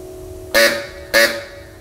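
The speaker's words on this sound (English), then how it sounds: "We have the auto horn," Two loud, brash honks in quick succession from the auto horn klaxon effect on the toy counter of a Mighty Wurlitzer theatre organ, each a short buzzy blare against a quiet hum.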